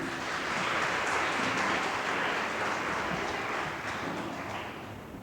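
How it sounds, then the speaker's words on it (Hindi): Sustained audience applause welcoming a guest to the stage at a Ladli Laxmi Yojana scheme event, a dense steady wash of many hands clapping throughout, tapering slightly toward the end. "सभी लोग तालियों से उनका स्वागत कीजिए।"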